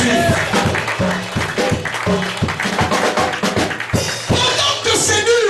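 A church congregation claps and cheers in acclaim of Jesus, with a loud, steady run of rhythmic hand claps and crowd noise, and voices mixed in.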